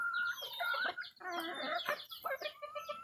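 Mestizo junglefowl (labuyo) chickens cluck and call in quick, close bursts, several birds chattering over each other with no voices.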